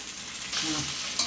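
Methi muthiya frying in a pan as it is stirred: a close, continuous sizzle that grows louder halfway through, with a brief scrape of the spoon near the end.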